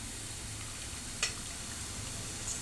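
Boondi batter frying in well-heated oil in a kadai, a soft steady sizzle throughout with a brief sharper crackle near the middle, close and moderately quiet, no voices.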